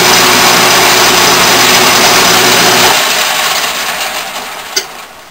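Metal lathe turning a steel workpiece down to a shoulder, the tool feeding back out; a steady loud machine drone and cutting hiss that drops in level partway through, with a brief sharp tick near the end.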